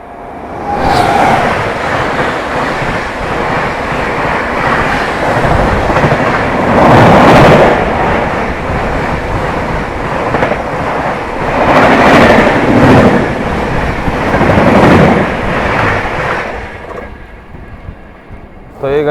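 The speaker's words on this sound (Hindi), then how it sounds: "अपनी प्रयागराज एक्सप्रेस ट्रेन जर्नी चली रही है" The 12417 Prayagraj Express passenger train runs loudly at speed from Prayagraj to New Delhi, a steady roar of wheels and rail clatter with surging rhythmic swells throughout, heard from inside the coach.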